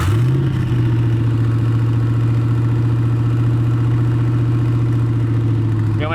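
Turbocharged Hemi V8 in an old-school Dodge Dart with a six-speed manual, running at a steady, loud, throbbing idle with a deep, even pulse close by and no revving evident.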